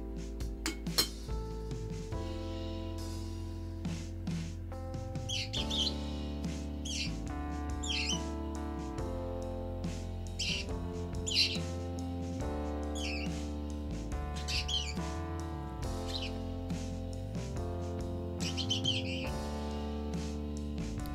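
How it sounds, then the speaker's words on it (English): A pet sparrow gives repeated short, bright chirps in small bursts, heard over steady background music indoors. "Sparrows have beautiful voice."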